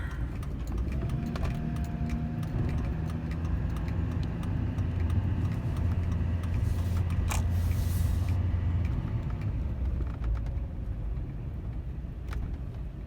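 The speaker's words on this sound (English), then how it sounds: "Pulling back into the gas station here." A bone-stock LLY Duramax diesel pickup rolls slowly into a gas station, with a steady low engine rumble and road noise inside the cab, plus light creaks and clicks and a brief hiss partway through.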